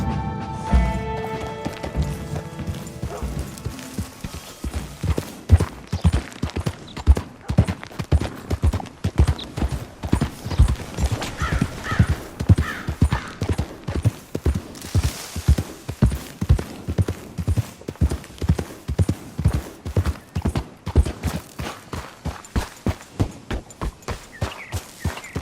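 Steady, rapid hoofbeats of a galloping thoroughbred horse in Red Dead Redemption 2, loud and close, running rhythmically for a long stretch with a brief musical intro at the start.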